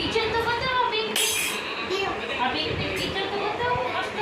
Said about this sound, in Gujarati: તવી છે તવી